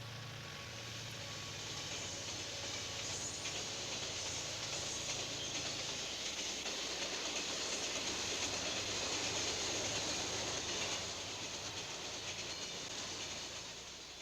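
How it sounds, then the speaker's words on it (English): Santa Fe's Chicagoan streamliner train heads out at a distance, a faint, steady rumble of rolling cars swelling gently and then easing, with no voices. "Further south, I caught sight of Santa Fe's Chicagoan heading out."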